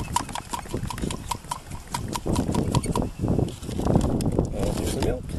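A hand-held milker's hand pump draws milk into a jar with a steady run of rhythmic mechanical clicks and squeaky pumping strokes close by, while a person talks over it.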